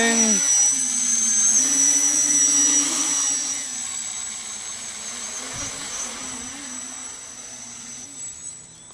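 A small drone's motors whine steadily with a high buzzing hum while it flies and sets down for a landing, the tone shifting slightly as it descends and settles; it sounds close and continuous, with no talking.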